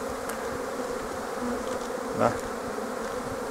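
Honey bees buzz around their hives during a February cleansing flight on a mild winter day, a steady dense hum from many insects with one bee passing close by, while a voice briefly speaks.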